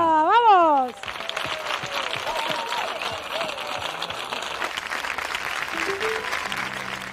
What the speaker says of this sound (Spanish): Un fuerte aplauso para Eddie Palmieri y Papo Lucca.